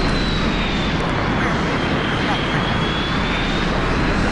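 Aircraft engine in the video game Battlefield 2, a loud, steady roar with a faint rising whine, continuous throughout.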